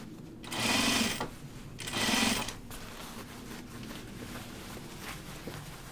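A sewing machine runs in two short bursts of steady whirring as it stitches the seam allowance on a pair of Ginger Jeans, with quiet handling noises in between and afterward.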